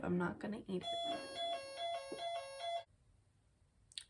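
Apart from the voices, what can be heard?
office phone ringing like an alarm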